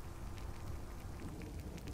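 Rain falls in the video game Honorless, a soft, even patter of drops on surfaces that stays faint and steady for a couple of seconds with no voices.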